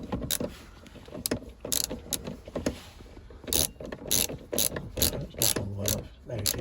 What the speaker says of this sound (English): I've taken a ratchet here, 30mm socket, and just back that all the way off